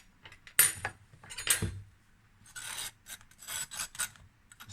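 Barbecue sauce is spread onto a boneless baby back rib sandwich, heard as close, intermittent rasping scrapes and soft rubs of a utensil, with a light clink, and no voices.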